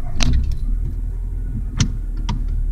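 A car's engine drones steadily while climbing a steep hill slowly and without strain, with a few brief sharp clicks or knocks over the low continuous rumble.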